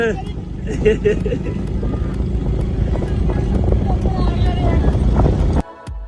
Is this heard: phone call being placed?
no